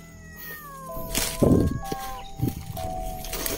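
A cat meows repeatedly in an overgrown outdoor area, several drawn-out, rising and falling cries fairly close by, with rustling movement between them.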